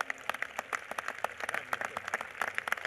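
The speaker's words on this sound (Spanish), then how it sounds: "¡Aplausos para Stefano!" Applause from a crowd at a Peruvian presidential welcome for the country's Olympic athletes, dense overlapping claps filling the whole stretch at a moderate, steady level with no talk.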